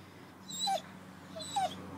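A puppy whimpers in two short high whines, about a second apart, close to the listener over a steady low hum.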